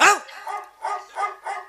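A dog barks several times in quick succession, with a sharp, yelping first bark followed by three shorter, evenly spaced ones, fairly close and alone.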